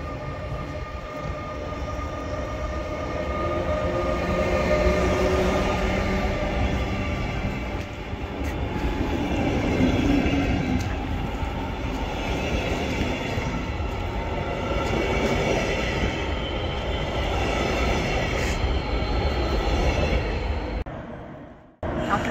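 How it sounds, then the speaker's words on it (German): A replacement train runs through Berlin with a continuous loud rumble of wheels and carriages and a faint squeal now and then, close by for about twenty seconds before cutting off abruptly. "Today is a replacement train."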